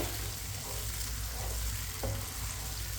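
Peas and carrots frying in a pan give a continuous, fairly loud sizzle and hiss, with one brief spoon scrape partway through, and no voices.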